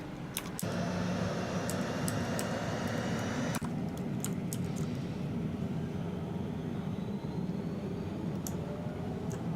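A military aircraft engine spools up on a landing pad, a steady loud broadband roar that holds throughout with a turbine whine, and a few sharp clicks or clanks mixed in near the start.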